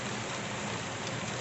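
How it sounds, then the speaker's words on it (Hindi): Steady rain falling outside a village kitchen in Jharkhand, a dense, even hiss of drops on surfaces holding constant throughout, with no voices. "और देखिए बारिश हो रही है।"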